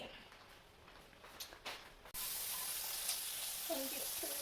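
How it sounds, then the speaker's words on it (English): Warm water gushes from a tap into a container, starting abruptly after a few quiet seconds and continuing as a loud, steady rushing hiss. "first I'm gonna fill it up with some warm water"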